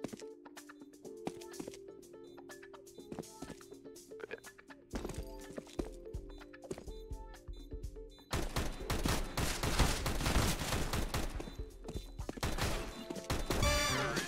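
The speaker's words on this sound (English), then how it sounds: "I didn't know the fucking handgun went through the crate." Handgun fire in CS:GO on the de marine map, shots punching through a crate, a rapid series of sharp cracks that thickens into a dense volley in the second half, with no talk.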